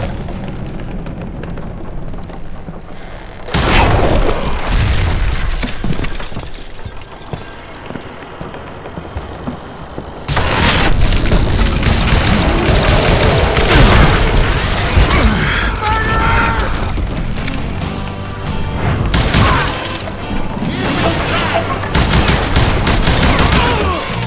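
Dynamite explosions in the video game Call of Juarez: Gunslinger: heavy booms and rolling blasts rise in repeated waves, mixed with gunfire and crumbling debris, with a game soundtrack underneath and bursts of voice between them.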